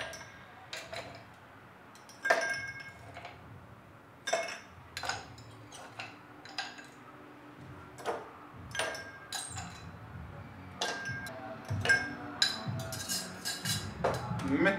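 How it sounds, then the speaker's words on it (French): Ice cubes dropped one after another into drinking glasses while preparing banana vanilla acerola juice, a series of sharp, close clinks and clatters scattered irregularly, with a voice talking softly between them. "On va d'abord rajouter des glaçons dedans."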